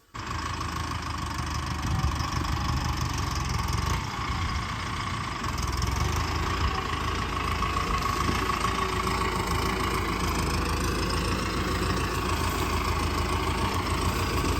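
A motorcycle idles steadily and continuously near a sugarcane field, a low even rumble running unbroken from start to finish with no talk over it.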